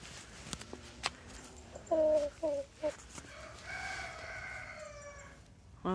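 Hens in a backyard flock of nine birds cluck in short, bright bursts, a few close calls around the two-second mark followed by a softer sustained vocal tone, over a quiet outdoor background.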